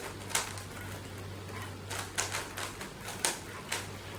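A Megaminx twisty puzzle being turned to scramble it, with a quick series of faint plastic clicks and rasps at irregular intervals over a low steady hum.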